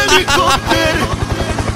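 A cartoon character voices a helicopter, a rapid chopping vocal imitation of rotor blades thudding in a fast steady beat under lively overlapping speech and laughter.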